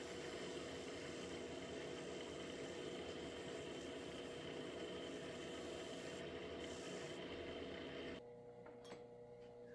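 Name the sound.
wood lathe spinning at higher speed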